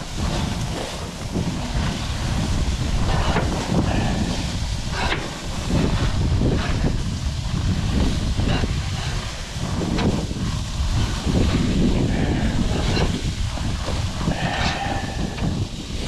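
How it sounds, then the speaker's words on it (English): Strong outdoor wind of about 20 mph roars steadily against the microphone as a dense, rushing noise with gusty swells throughout, with no talk. "Now the wind picks up again, probably at least 20 miles an hour"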